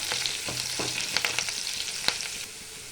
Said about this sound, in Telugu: ఇప్పుడు సన్నగా తరుక్కున్న ఉల్లిగడ్డలు ఇప్పుడు కొన్ని తాలింపు గింజలు ఇప్పుడు రెండు రెబ్బలు కరివేపాకు ఇదంతా బాగా ఫ్రై అవ్వాలి